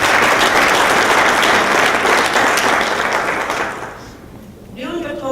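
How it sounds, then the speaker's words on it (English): An audience at a regional Black chamber of commerce conference breaks into loud, dense applause that holds steady, then thins out and fades, with a voice starting to speak at the end. "Let's give our first round of applause to Ms."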